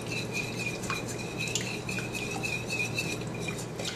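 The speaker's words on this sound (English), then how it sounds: "Now I'm going to whisk this until I have a smooth" Metal whisk clinking and scraping steadily against a bowl while melted chocolate and hot cream are beaten into a smooth paste, a close, continuous rattle with sharp ticks and no talking.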